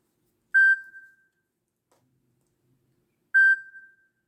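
Two short, clean notification beeps from a device, each a single bright tone spaced about three seconds apart, heard alone against near silence.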